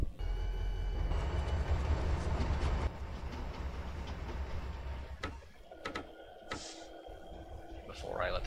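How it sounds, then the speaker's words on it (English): Train running on rails during operation of Carrabassett Valley Railroad locomotive #7, a loud steady rumble that later thins into clanks and squeals of the cars, with a voice speaking over it. "Before I let the train just speed out of control."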